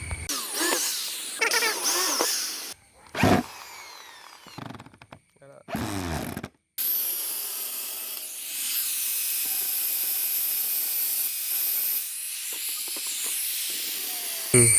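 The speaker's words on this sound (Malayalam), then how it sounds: "നമുക്ക് ഒരു ത്രീയുടെ ബിറ്റിന് തുളച്ചാൽ മതി" A power drill fitted with a 3 bit bores a screw hole while repairing a speargun. Short whirring bursts start and stop, followed by a longer, steady high-pitched run up close.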